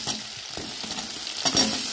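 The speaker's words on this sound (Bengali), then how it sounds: "লাউটা দিয়ে দিয়েছি, ভালো করে ভেজে নেবো।" Chopped bottle gourd sizzles steadily in a hot pan with tomato, ginger paste and cumin, while a spatula stirs and scrapes in irregular strokes close by, with no one speaking.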